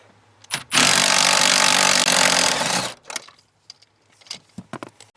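A power tool whirs loudly for about two seconds while removing a firewall nut during an LS engine swap, then short faint clicks and handling noises follow.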